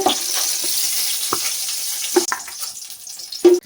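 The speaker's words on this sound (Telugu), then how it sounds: "ఆయిల్ బాగా వేడైన తర్వాత వంకాయలు నీళ్ళల్లో వేసి కడిగి ఉంచుకున్నాం కదా, ఆయిల్లో వేసుకోవాలి." Brinjals frying in hot oil, a steady loud sizzle with a few clinks of stirring against the pan.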